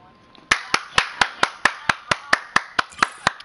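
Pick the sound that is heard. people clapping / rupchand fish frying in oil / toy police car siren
people clapping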